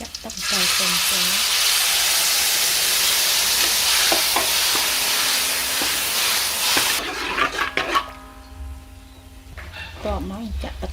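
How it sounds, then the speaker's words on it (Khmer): Ripe tamarind juice hits a hot pan with a loud, sustained sizzling hiss that fades after several seconds into quieter bubbling, with close stirring scrapes and a voice talking toward the end. "ចាក់ទឹកអំពិលទុំចូល"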